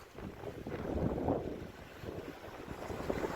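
Steady roaring wind buffets the microphone over rushing water as a sailboat speeds through strong wind crossing the English Channel, a continuous broadband whoosh with no voices.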